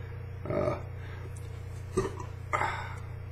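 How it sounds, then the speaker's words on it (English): Three short throaty burps after eating a fruity, citrusy Aji Pineapple hot pepper, close up over a steady low electrical hum, the first one longer and the last two quick. "Chili burps."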